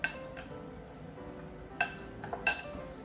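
Utensils clinking against a bowl while basil is mixed into a Thai fish salad, a few sharp isolated clinks and scrapes, close and quiet without talk.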